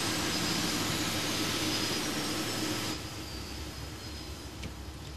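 Cockpit of a jet aircraft in flight during a simulated engine flame-out: a steady broadband engine roar drops noticeably in level partway through, leaving a quieter sustained hum with a thin whine.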